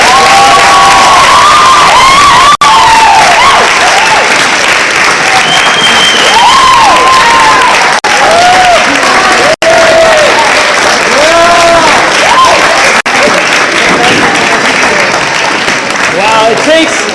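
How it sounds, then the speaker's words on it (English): A crowd at a live event applauds and cheers for the student crew, loud continuous clapping mixed with whoops, shouts and excited voices, sustained close and dense throughout. "Come on up here, give these guys a big round of applause."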